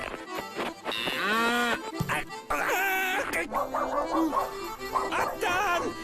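A cow lowing in an animated cartoon, with drawn-out moos between busy voices and other animal calls, including dog-like barks, in a lively, crowded mix.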